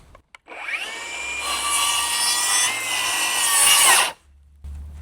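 A DeWalt DCS590 circular saw cuts through wood with a loud, close, high-pitched whine that holds steady for a few seconds, then winds down and stops.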